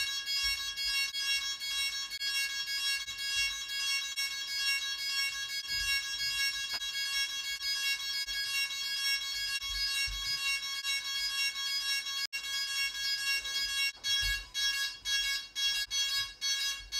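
A DJI Phantom 3 Professional drone sounds a steady electronic tone throughout during a firmware update, then a series of short, evenly spaced beeps toward the end, fairly loud and close.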